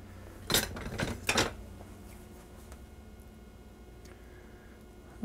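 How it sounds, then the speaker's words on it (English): Metal cutlery clinks against pans and dishes in a home kitchen while a tasting spoon is taken out during cream of broccoli soup making, a few close, bright rattles in the first two seconds, then quiet with faint light ticks. "Get out my tasting spoon."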